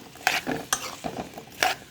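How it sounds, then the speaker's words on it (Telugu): Potato pieces fry in oil in a pan, heard as soft sizzling broken by several sharp scrapes and clinks of a utensil stirring, close and without talk. "బంగాళదుంప ముక్కలు చక్కగా ఆయిల్లో ఫ్రై చేసుకోవాలి"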